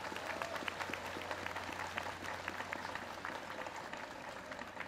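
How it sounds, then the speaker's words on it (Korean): A large audience applauds steadily for a Korean traditional music orchestra at a presidential farewell speech event, a dense, even wash of clapping with a faint low hum beneath it throughout. "박수 한번 크게 치야죠."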